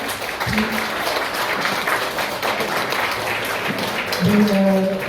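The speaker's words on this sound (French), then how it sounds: "On va mettre l'applaudissement." A dense wash of applause from a crowd at a presentation event fills the clip steadily, with a voice speaking over it at moments.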